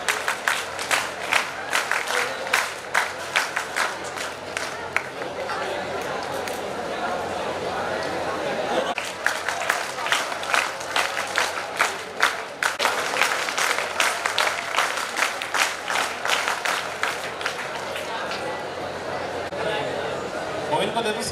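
Thunderous applause from the audience at a school opening ceremony, sustained rapid clapping from a large crowd that surges and continues for about twenty seconds with scattered voices underneath.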